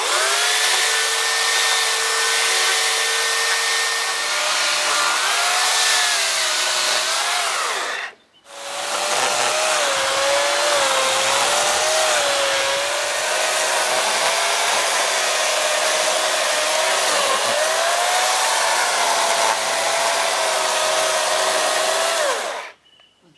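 A loud power saw cutting an oak trunk roars continuously with a wavering pitch, stops briefly, then starts again and runs steadily before cutting out.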